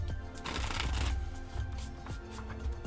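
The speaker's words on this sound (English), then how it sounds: "And then we'll shuffle." A deck of tarot cards is shuffled by hand up close, with a dense riffling burst in the middle and softer flicks and taps of cards before and after, no talking.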